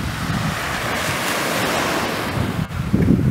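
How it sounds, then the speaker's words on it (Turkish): Aegean Sea waves washing onto Enez beach at sunset, a steady loud surf roar with strong wind buffeting the microphone and a surging wave near the end. "Ege Denizi."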